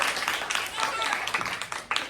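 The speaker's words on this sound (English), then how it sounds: "Let's give her a round of applause" A small audience breaks into scattered applause, a brief patter of claps close by with voices mixed in.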